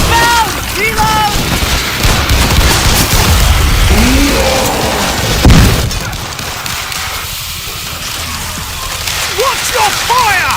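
Gunfire in the zombie shooter World War Z, dense bursts and booms in a chaotic battle mix with a heavy noisy bed, game voices shouting over it.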